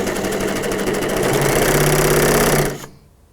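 A bernette B48 Funlock overlock machine stitching at high speed, a fast dense mechanical whir with rapid rhythmic clatter, close and loud, then stopping abruptly near the end.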